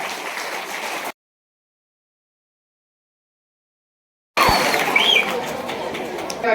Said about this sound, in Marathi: त्यांच्यासाठी जोरदार टाळ्या वाजल्या